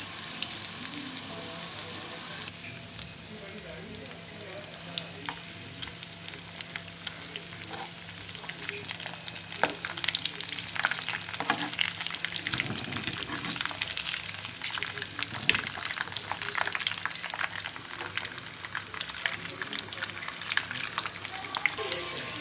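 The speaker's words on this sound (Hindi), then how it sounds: "ये फ्राई हो गए हैं कटलेट, अब मैं इसे निकाल रही हूँ" Chicken cutlets frying in hot oil, a continuous bubbling sizzle that grows busier and more crackly partway through, with light clicks of a utensil and a faint voice in the background.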